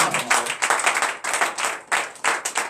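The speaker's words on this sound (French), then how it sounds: "Donnez l'acclamation sur ça." A church congregation at a Sunday worship service clapping in a strong, rhythmic beat, loud and close, with sharp repeated bursts and brief gaps.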